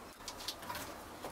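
A pigeon or dove coos softly and briefly at a nest in an abandoned train yard, faint against a constant background hiss with no talking.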